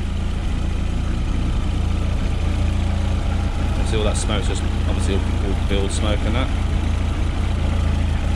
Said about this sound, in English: Right then, we're running, guys.